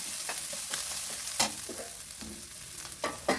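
Curry leaves and ground spice paste fry in a pan for jackfruit thoran, a steady close sizzle broken by a few sharp spoon scrapes and stirring clicks.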